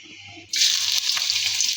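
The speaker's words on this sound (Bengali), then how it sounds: "কড়াইতে তেল দিয়ে দিয়েছি, তেলটা গরম হয়ে গিয়েছে। এখন দিয়ে দিব পেঁয়াজ কুচি।" Chopped onion dropped into hot oil in a wok for chicken haleem, a sudden loud hiss after a quiet half-second that settles into steady close sizzling.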